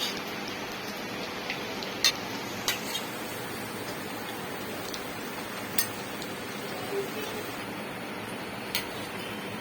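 Crab bhaji (khekda bhaji) frying in hot oil, a steady close sizzle with scattered sharp pops and crackles, no voices.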